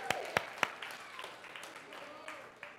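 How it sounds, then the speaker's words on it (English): A church congregation claps for the Lord, with a few sharp, loud claps standing out at the start over a softer spread of scattered clapping, while a voice talks over it. "Give the Lord a hand clap."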